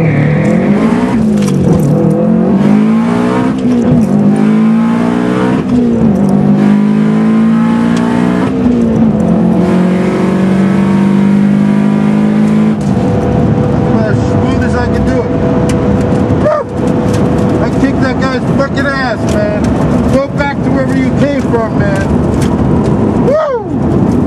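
Turbocharged Subaru STI running on a drag strip, its engine repeatedly revving up and dropping through a series of gear shifts, loud and close with a rising whine and tire noise, under occasional talk.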